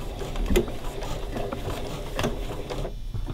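A sewing machine stitching binding along the edge of a placemat, running with a steady mechanical whir and a couple of louder clattering pulses before briefly cutting out near the end.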